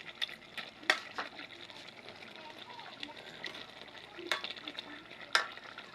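Tilapia frying in a home kitchen pan, a steady soft sizzle with occasional stirring and utensil scrapes, sharper clinks near the start and end, at moderate closeness with quiet background voices.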